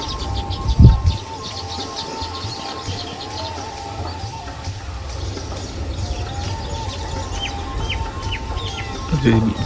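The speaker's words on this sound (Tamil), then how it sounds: "ரியல் தூக்கணாங்குருவி." Real weaver birds chirp around a village area that was once farmland, with many small repeated high chirps over a steady outdoor background and a brief low thump.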